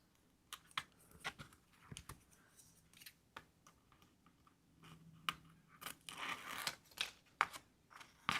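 Faint, close-up snipping and scraping clicks from scissors lifting the edge of release paper, irregular and quiet, ending with a soft crinkly tearing rustle.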